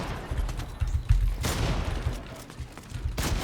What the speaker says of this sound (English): Who was shooting like a madman?